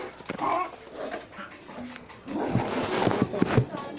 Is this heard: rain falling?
no